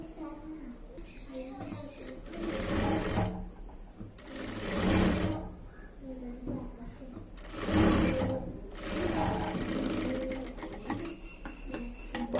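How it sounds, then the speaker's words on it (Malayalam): A sewing machine stitches cloth panties made from a small fabric scrap, running in several whirring bursts of a few seconds each while a person talks over it. "നമുക്ക് ഈ ഇന്നറിന്റെ അളവിൽ ഇങ്ങനെ ഒന്ന് സ്റ്റിച്ച് ചെയ്ത് കൊടുക്കാം"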